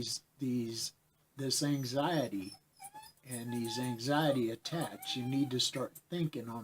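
A miniature dachshund whimpers faintly behind a shut door, its thin whines running underneath a man's steady, close talking.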